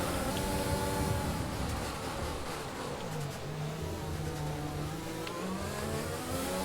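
Formula One cars accelerating off the grid at a race start in the F1 2020 video game, a dense wall of high-revving engine whine from many cars at once, loud and continuous.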